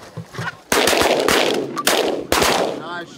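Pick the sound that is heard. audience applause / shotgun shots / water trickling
shotgun shots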